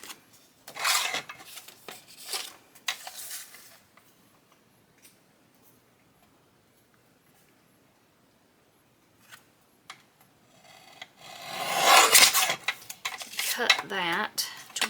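A small paper trimmer slices craft paper for a hidden pocket on a beginner folio, giving a few close sliding, scraping cuts and paper rustles in two bursts with a quiet stretch between.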